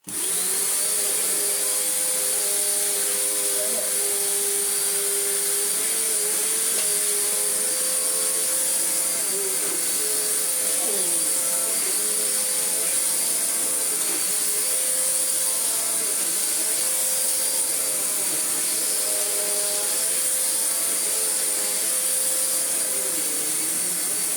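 A vacuum cleaner runs on a floor, a loud, continuous, steady roar with a high whine and slowly shifting motor tones throughout.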